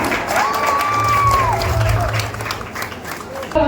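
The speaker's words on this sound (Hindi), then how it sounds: "तालियां" Applause from an audience at a film poster launch event in Raipur, a dense wash of clapping lasting several seconds under a sustained tonal line, fading near the end.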